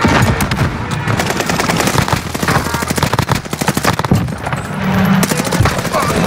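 Rapid automatic gunfire in the Warzone video game, dense bursts of shots crackling continuously at close range, with players talking over the shooting.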